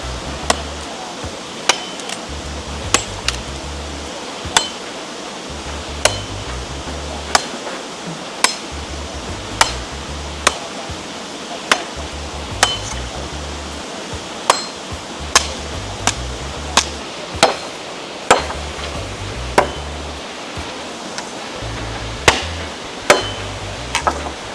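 Someone chops with a blade beside a river in the Jamaican countryside, sharp close strikes landing every second or so over about twenty-five seconds, ringing slightly, with steady river and outdoor noise underneath.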